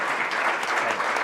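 Audience applause for a panel of speakers at a talk on a coup in Dallas, steady dense clapping filling the whole brief moment at close range.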